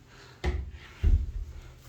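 Wooden drawers in a Premier Tower apartment bedroom open and close: two close sliding knocks about half a second apart, the second heavier and rumbling briefly, in an otherwise quiet room.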